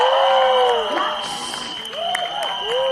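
An audience at a music album launch for a war film claps and hoots in a brief burst, with whoops and cheers swelling then easing under a steady tone.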